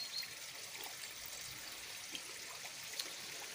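Water trickling from a roadside well beside a hillside road, a faint, steady outdoor gurgle with occasional small splashes and nobody talking.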